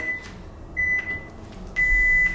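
Two steady electronic beeps sound under background noise, the second longer, like a timer buzzer going off.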